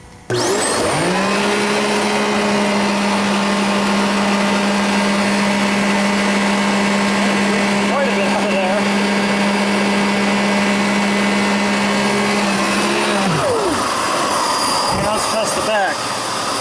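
A Simplicity Riccar vacuum cleaner runs loud and steady during a HEPA particle test, with a whining motor tone that starts at once, holds evenly and then spins down near the end.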